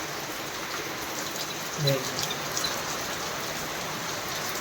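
Steady rain falling and pattering on surfaces during a festival night, constant and fairly loud, with a brief voice heard faintly under it.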